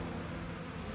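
Honeybees swarm over a comb held outside the hive, a dense, steady buzzing hum filling the space close by.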